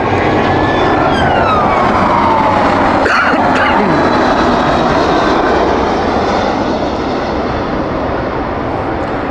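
An airliner departing Heathrow on a Berlin flight roars loudly and continuously, a dense engine rumble with a falling whine and a brief sharp clatter partway through.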